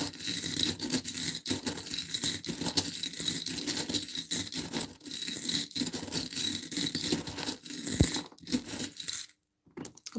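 Tarot cards being shuffled, with quick crisp riffles and soft flicking rattles in bursts, close up, pausing briefly before a quiet end.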